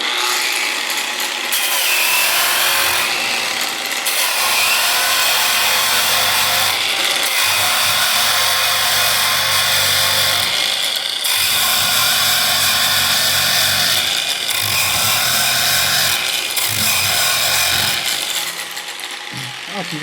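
An angle grinder fitted with a flap disc sands metal at its lowest speed, giving a steady, loud abrasive whir with a continuous rasping texture and small periodic shifts in tone from start to finish.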